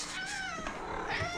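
A hungry cat meows at feeding time, a close, drawn-out rising-falling cry followed by a softer second call over faint household noise.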